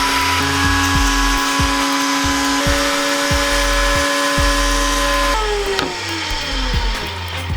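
Power tool bevelling the inside edge of a magazine part for a homemade nail launcher, a loud steady motor whine with repeated short cutting bursts and a pitch drop near the end, no talk.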